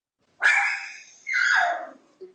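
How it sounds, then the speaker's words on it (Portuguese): A dog barks twice in loud, drawn-out bursts close by, followed by a short faint yip, with no talking over it, somewhere near a house. "Tem cachorro latindo aqui,"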